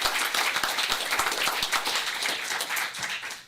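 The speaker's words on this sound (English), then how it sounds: "So I just want to give them a great round of applause." A short round of applause fills a city council meeting in Turlock, scattered claps overlapping into a dense patter that slowly thins toward the end.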